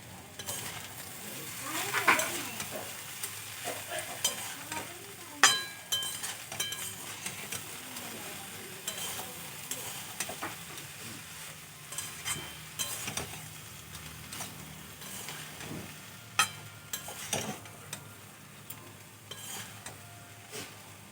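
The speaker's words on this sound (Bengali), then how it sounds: "ধনেপাতা কুচি দিয়ে আমি খুব ভালো করে মিশিয়ে নেব।" Vegetable rice made from leftover rice is stirred with chopped coriander in a pan, giving soft scraping and clinking of the spoon against the pan over a faint sizzle, with irregular louder knocks throughout.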